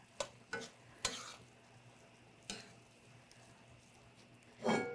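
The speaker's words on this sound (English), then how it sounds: "I'm going to stir these herbs through." Herbs such as chive and parsley being stirred through a duck and andouille purloo in a pot with the burner off. There are a few soft scraping strokes of the spoon, close by, followed by a louder clink near the end.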